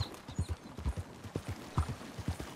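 Horse hooves clip-clopping in Red Dead Redemption 2, a steady trotting rhythm of close, fairly loud hoofbeats on a dirt trail, continuing alone for a few seconds.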